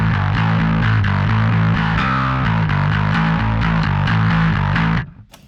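Bass guitar played through a distortion effect on a Headrush multi-effects unit: a loud, gritty, sustained riff of repeated low notes that cuts off abruptly near the end, leaving a brief fading tail.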